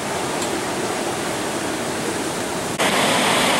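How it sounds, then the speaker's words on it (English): Hurricane-force wind roaring at Cocoa Beach pier in Florida, with surf up to 30 feet crashing below, a dense unbroken rush of noise that swells louder near the end. "maybe you can hear my voice over the screaming wind"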